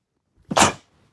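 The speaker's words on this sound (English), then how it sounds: "I sneezed." A single short, sharp sneeze close to the microphone, surrounded by silence.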